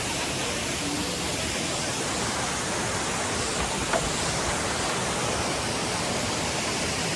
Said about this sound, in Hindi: तो ये देखो पानी किस तरह से बह के आता है ऊपर से